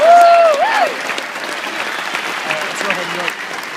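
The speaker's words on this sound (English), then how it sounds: "Let's give them a big round of applause for coming down to Little Rock." Applause from a crowd at a barbecue Q&A event in Little Rock, a voice briefly heard at the start before the steady clapping carries on at a moderate level.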